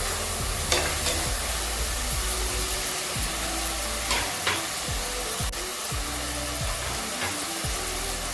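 Tomatoes sautéing in a pan for an empty salna, cooked down until mushy: a loud, continuous sizzle close by with scraping strokes of a spoon stirring throughout; nobody speaks.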